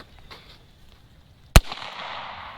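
A Bintac AEA Defender V2.0 short-barrel airgun fires a 155-grain round: a single sharp, loud report after a quiet stretch, followed by a short echoing tail.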